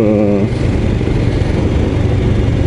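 A Royal Enfield Scram 411 motorcycle cruising along a road in the Vosges, its engine a steady loud droning hum with a brief rising note at the start, no talk.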